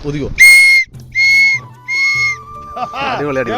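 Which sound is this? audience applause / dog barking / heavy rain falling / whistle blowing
whistle blowing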